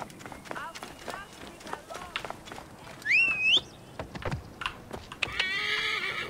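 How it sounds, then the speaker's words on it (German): A horse in Assassin's Creed Origins whinnies once amid clip-clopping hooves and running sounds, with speech and game effects mixed in throughout. "Dann nehmen wir jetzt unser Pferd und laufen da ganz normal hin."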